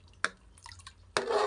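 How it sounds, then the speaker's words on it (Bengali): Soaked rice tipped into a pot of boiling water gives a brief splash, then a rushing wet pour that runs on loudly to the end. "এবার আমি জলের মধ্যে দিয়ে দিচ্ছি ভেজানো চাল।"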